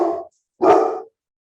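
A dog barks twice, close and loud, with a short pause between the two sharp barks and silence after.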